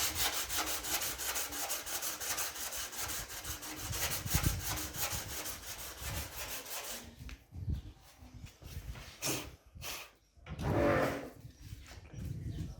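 Sandpaper rubs steadily over a first coat of Bondo filler on a Nissan Bluebird car body in a long, continuous rasping scrub, then breaks into shorter strokes and pauses near the end.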